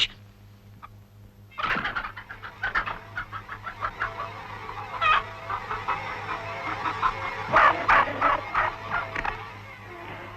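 Cartoon hens cluck in a rapid, excited flurry from a farmyard scene in the 1954 animated Animal Farm. The clucking starts after a short pause, builds into a dense, fairly loud run of squawks and stays busy with no talk.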